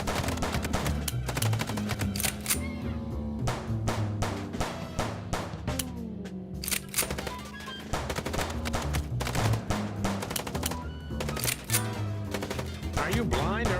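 Rapid automatic gunfire from the video game Chicken Police, dense and loud throughout with overlapping bursts and background music, and voices talking over it.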